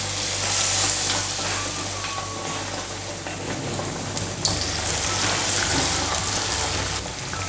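Breaded chicken cutlet deep-frying in oil heated to 180 degrees, a steady dense sizzle and crackle throughout with a few sharper pops, close and fairly loud.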